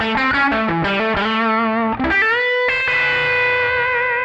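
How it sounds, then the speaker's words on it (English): An electric guitar through a Kemper profiler with added gain plays a quick run of singing, overdriven notes, then lets a final chord ring out, loud and alone. "A little more gain here."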